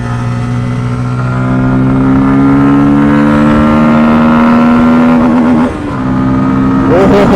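A Bajaj Pulsar F250 or N250 motorcycle is ridden at speed, its engine a loud, steady drone that holds close and constant, with a brief dip as the revs drop and then climb again near the end.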